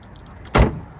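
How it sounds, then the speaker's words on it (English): A single solid thud of a 1968 Ford Mustang Cobra Jet coupe's door shutting, preceded by a few faint clicks and followed by a short fading resonance. "Door's shut very nice."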